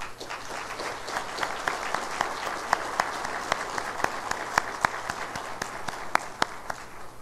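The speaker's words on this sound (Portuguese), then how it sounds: "Palmas ao senhor Léo Heller." A conference audience at the official opening of the Assemae 2017 event applauds a keynote speaker, with steady, close clapping and sharp individual claps standing out throughout.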